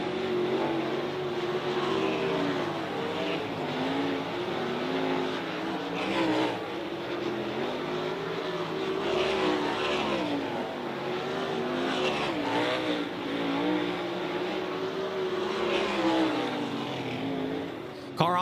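Race cars roaring around a dirt oval during hot laps at a High Limit Racing event at Outlaw Speedway, a steady loud engine drone with rising and falling pitch as cars pass, and faint announcer talk beneath.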